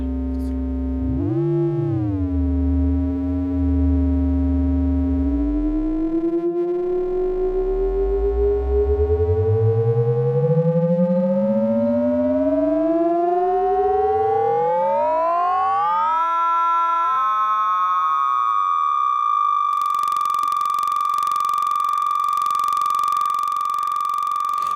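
Serge modular synthesizer feedback tones glide and bend upward in layered sweeps, gradually merging into one steady, piercing sustained whine over a hiss, with no voices.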